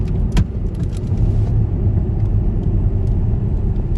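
Jaguar XKR X150 driving along a winding Peak District road, a steady low engine and road rumble heard from inside the car, continuous and fairly loud throughout with a few faint knocks.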